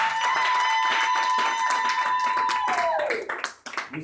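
A church congregation claps together in quick, steady rhythm to acclaim Jesus Christ, loud and close, over a sustained organ or keyboard tone and voices that trail off near the end.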